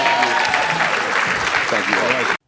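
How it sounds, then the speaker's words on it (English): An audience applauds panelists at the close of a talk-show discussion between NBA and WNBA players' union representatives, a dense loud burst of clapping that runs steadily for about two seconds and then cuts off abruptly. "Give them another round of applause."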